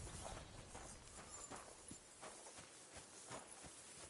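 Horse hooves clip-clopping at a walk in the medieval game Kingdom Come Deliverance 2, steady, evenly spaced footfalls over a continuous outdoor ambience, with no talk.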